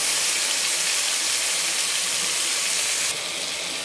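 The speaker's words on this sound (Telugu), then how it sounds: "వంకాయ ముక్కలు కూడా బాగా వేయించుకోవాలి." Brinjal pieces fry in a pan, giving a steady, loud hissing sizzle that holds even throughout and drops slightly near the end, with no voices.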